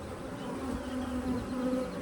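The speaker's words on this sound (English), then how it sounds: "There's still a decent amount of bees in here, though." Dense, droning buzz of many honeybees close up in an opened hive, a steady hum with a few louder wingbeat tones weaving through.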